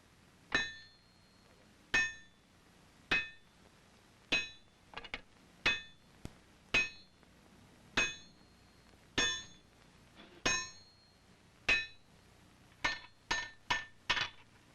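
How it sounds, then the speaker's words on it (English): A hammer strikes a bar of solid wrought iron at a forge, shaping it into a flat scalp: sharp ringing metallic blows at an uneven pace, about twenty in all, some in quick pairs, with no talk. "Here he will heat and hammer a bar of solid wrought iron into a flat scalp"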